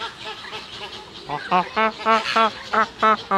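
A person imitates a flamingo at a park, giving a run of about eight short, nasal, honking calls in a steady rhythm after a quiet start, loud and close.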